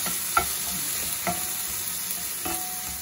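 King prawns stir-fried into fried rice in a pan: a constant sizzle with a few distinct clinks and scrapes of a utensil stirring, close and moderately loud, with no voices.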